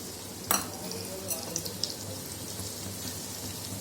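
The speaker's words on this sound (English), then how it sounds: "Now I'm preparing the stuffing for samosa" Chopped onion frying in a pan for samosa stuffing, a steady soft sizzle throughout with a few brief clinks and stirring scrapes near the start, no talking.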